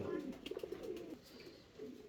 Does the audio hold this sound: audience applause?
no